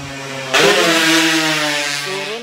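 An electric bike motor is throttled up on battery power, its whine surging in suddenly and holding a steady, loud, close hum with rising tonal overtones, then easing slightly near the end.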